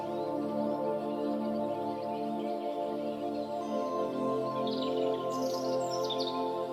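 Birdsong drifts over a calm open field on a clear day, with faint chirps and tweets sitting above a steady, soft musical drone, gentle and distant rather than close.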